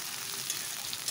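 Potatoes and onion fry in a pan with a soft, even sizzle, close and fairly quiet, with no one speaking.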